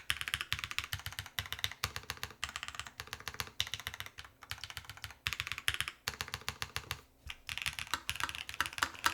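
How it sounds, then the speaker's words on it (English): Typing on a Lotus80 mechanical keyboard with a plate-mounted brake, a close, busy run of crisp clacking keystrokes in quick bursts with brief pauses, tinny in places, with no talking. "Typically, I find this section of the keyboard to be very tinny."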